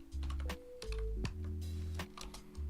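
Someone types on a computer keyboard in a design session, giving irregular clicks mixed with low hum and tonal background sounds, close and fairly quiet.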